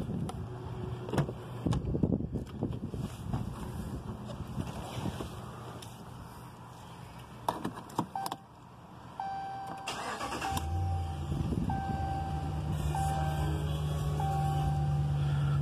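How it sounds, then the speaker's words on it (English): A 2016 RAM 1500 SLT 4x4 pickup truck with wind noise outside: door handling and shuffling, then the engine cranks and catches around midway, settling into a steady, low idle hum with a few electronic chimes. "Just gonna jump in and start it up real quick."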